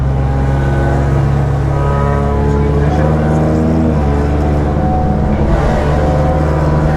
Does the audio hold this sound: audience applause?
no